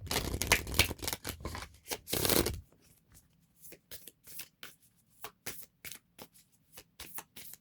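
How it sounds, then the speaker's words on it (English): An oracle card deck is shuffled in quick, dense riffling bursts, followed by a series of separate soft card flicks and slides as cards are drawn one at a time, close and clear. "pull one from this deck, the one from the Creator Oracle"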